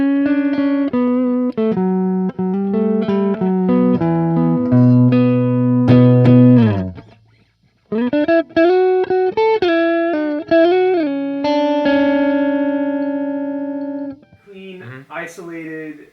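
Electric guitar played through an amp simulator set to a clean, isolated blanket-on-the-amp tone, sustained melodic notes and chords ringing out close and steady, with a brief pause and some talk near the end.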